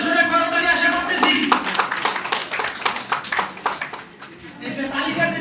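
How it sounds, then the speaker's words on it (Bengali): A crowd claps for a speaker at a gathering, with a dense patter of hands rising through the middle and fading near the end, while a voice carries on under and around the applause. "স্যারের জন্য জোরে সোরে করতালি আশা করতেছি"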